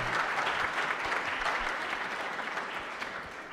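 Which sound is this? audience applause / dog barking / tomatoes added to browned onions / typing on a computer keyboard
audience applause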